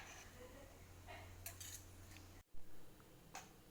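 Fish meat is spooned into a blender with curry paste, giving scattered clinks and scrapes of a metal spoon against the container and one sharp knock, over a low steady background hum.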